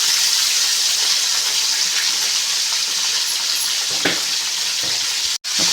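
Chicken with turmeric and salt fries in a pan with a loud, constant sizzle, a couple of soft stirring knocks and a short break near the end, no voices.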